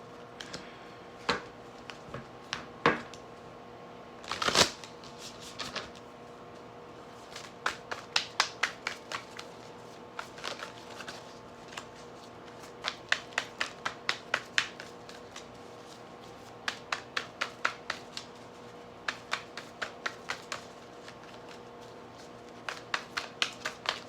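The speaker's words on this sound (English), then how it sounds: "I'm going to pull you guys some cards from the Spirit Animal Oracle deck for advice" A Spirit Animal Oracle deck being shuffled by hand, close and crisp, in repeated bursts of riffling and snapping card edges separated by short pauses, with no voices.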